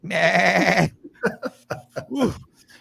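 A loud, harmonic goat-like bleat, compared to a billy goat, runs for nearly a second, then breaks into a string of short voiced bursts that sound like talk.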